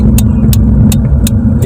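A car engine holding low first gear at slow speed, a steady loud rumble with regular sharp ticks repeating at an even pace on top.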